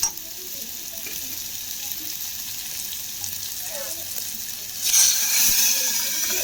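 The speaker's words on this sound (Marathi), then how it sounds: "मस्तपैकी मी आमटीला फोडणी दिली" Steady sizzling of spices and chili powder tempering in hot oil for amti (lentil curry), swelling suddenly louder and brighter partway through, with no one speaking.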